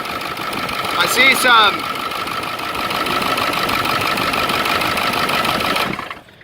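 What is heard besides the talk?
diesel engine running while warming up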